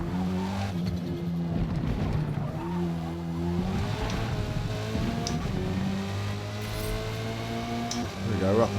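Audi RS3 engine revving and shifting through gears on a track lap in Forza Motorsport, a steady close engine drone with rising and falling pitch sweeps and some tire noise, with a voice talking over it.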